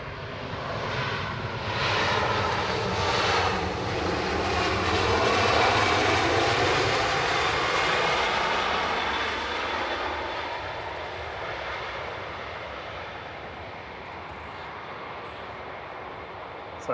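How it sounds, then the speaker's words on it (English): A Turkish Airlines Airbus A321 in Star Alliance livery lands at Manchester Airport, arriving from Istanbul, with a loud sustained engine roar that swells and then slowly fades as the jet passes. "Turkish A321 Classic. And wearing the Star Alliance livery, coming in from Istanbul, TCJR on A321."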